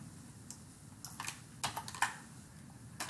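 Computer keyboard keys tapped for Excel shortcuts: about a dozen quiet, crisp clicks in irregular bursts, close and alone, with a couple of quicker double taps near the end.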